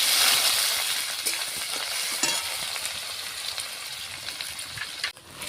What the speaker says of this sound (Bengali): তেল গরম করে নিয়েছি শুকনো লঙ্কা জিরা আর তেজপাতা দিয়ে দিচ্ছি করে ভাজা হয়ে গেছে এখন পেঁয়াজ একসাথে ভেজে নিচ্ছি